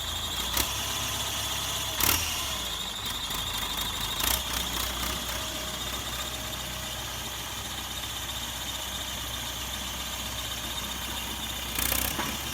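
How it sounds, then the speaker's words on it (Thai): A Ford 7610 tractor engine idles, humming steadily with a thin, high-pitched water pump bearing whine running continuously above it, and a few brief knocks. "แต่ดังวิวจะเป็นลูกปืนปั๊มน้ำนะครับ"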